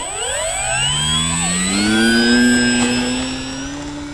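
The electric motor of a Durafly Tundra RC plane rises in pitch with a smooth whine as it throttles up for takeoff, then holds loud and steady nearby as the plane climbs away. A faint higher tone sits above it, and no one speaks.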